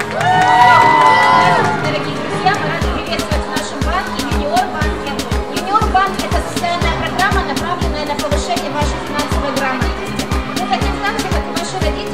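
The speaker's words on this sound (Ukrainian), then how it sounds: "Оплески" A crowd cheers and claps steadily with a rhythmic beat at the opening of a children's bank event. A voice speaks briefly at the start before the noisy, sustained crowd sound takes over.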